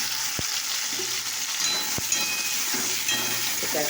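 Tomatoes go into a pan of frying fish kalia, raising a loud, steady sizzle and hiss close by, with occasional soft knocks and stirring clatter.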